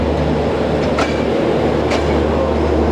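Panchagarh Express, a broad gauge air-cooled passenger train, rolls past at Santahar railway junction with a steady loud low rumble and periodic clacks of wheels over rail joints, no voices.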